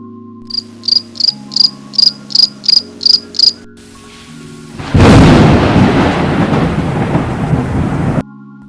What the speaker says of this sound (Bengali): বাইরে প্রচণ্ড ঝড় ও বজ্রপাত হচ্ছে